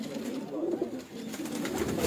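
Teddy pigeons coo on a rooftop in Mirpur, a continuous low, throaty rolling murmur from several birds, close and steady throughout.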